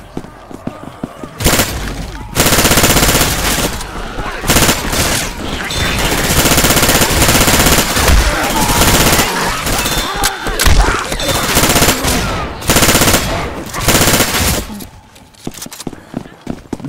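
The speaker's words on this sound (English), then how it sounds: "I guess I'll take this here machine gun." Machine gun in Left 4 Dead 2 firing in long, dense bursts with loud, sharp overlapping reports and short gaps between volleys, amid game noise and some talk.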